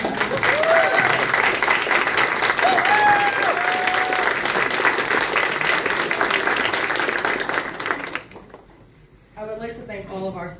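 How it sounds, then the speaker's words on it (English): An audience at an International Overdose Awareness Day observance at a cultural center gives a sustained round of applause, steady and full for about eight seconds before fading out, followed by a voice speaking. "Please give them another round of applause."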